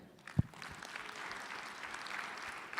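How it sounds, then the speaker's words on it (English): Applause from a crowd, a steady wash of clapping that swells in after a single low thump and continues evenly to the end. "I think we should clap for them"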